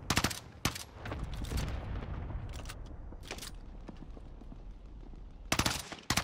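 Rapid bursts of video game gunfire in a team shooter match, with loud volleys at the start and end and scattered shots in between over a dense, busy battle background.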